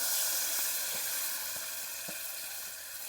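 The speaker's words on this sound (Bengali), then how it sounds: "এখন কড়াইতে দিয়ে দেব এই যে মেখে নিয়েছি এখন এই যে দিয়ে দিচ্ছি কড়াইতে দিয়ে দিলাম" Koi fish frying in a wok for a village-style steamed dish, giving a continuous close hiss and sizzle with faint stirring clicks and no voices.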